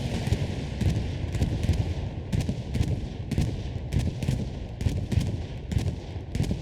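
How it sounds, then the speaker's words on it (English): Rumbling bombing-run explosions in Hell Let Loose, a World War II shooter, dense and continuous, with repeated heavy booms and crackling impacts rolling over a constant low battlefield roar. "Retaliatory bombing run coming in"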